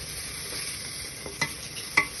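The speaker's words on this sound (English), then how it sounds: "So far we've got garlic and mushrooms in here cooking." Garlic and mushrooms frying in a pan while being stirred for a pasta dish; a quiet steady sizzle with a few sharp scrapes and clacks of the utensil near the end.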